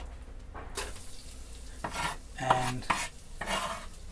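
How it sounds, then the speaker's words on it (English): Garlic stirred through butter in a pot with tomatoes nearby, a low, gentle sizzle under several scraping, clinking strokes of a spoon against the pot, close and moderately loud. "So we just stir the garlic in."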